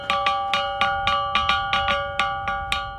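Ancient rock instrument dating to 5,000 BC, its stone worn smooth, struck in a steady fast rhythm of about a dozen clear ringing, bell-like metallic tones, close and alone.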